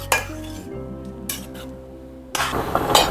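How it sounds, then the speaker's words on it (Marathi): Carrot halwa being stirred in a pot over a medium gas flame, with a few metallic spoon scrapes and clinks against the pot over a low bubbling simmer, close and without talking. "आता हे ढवळत राहायचं"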